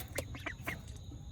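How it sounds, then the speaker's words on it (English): Three ducklings on a micro-farm giving several short, faint quacks in quick succession, close by against a quiet background. "But these are ducks, 3 ducklings."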